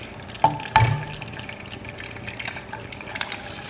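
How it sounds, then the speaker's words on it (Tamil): Eggs fry over high heat in hot oil until crispy, a faint steady crackle and sizzle from the pan, with a couple of sharp clinks near the start, and no talking. "ஸோ இப்போ வந்து எக் வந்து கொஞ்சம் ஹை ஹீட்டில் நல்லா கிறிஸ்பியாக ஆகணும்."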